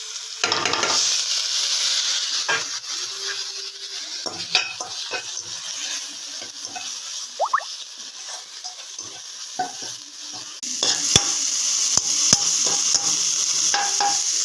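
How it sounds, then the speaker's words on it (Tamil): Steady sizzling of onions and spice paste frying in oil in a pan, with occasional stirring scrapes and clinks of a utensil against the pot, no voices. "இப்போ இது எல்லாத்தையும் போட்டு வதக்கிக்கலாம்"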